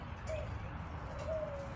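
Racing pigeons coo softly inside a box, two faint low coos over a rustling, noisy background.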